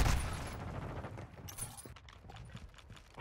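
Gunfire rattles through a Call of Duty Modern Warfare 2 match, a burst of sharp shots at the start followed by scattered fainter reports and clatter, with no talking.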